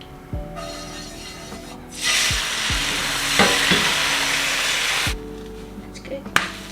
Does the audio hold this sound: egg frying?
yes